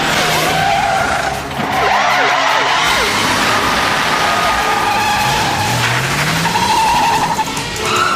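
A car in a chase skids hard, with loud tire squeals and sliding screeches over a revving engine, several bursts of squealing rising and falling across the scene.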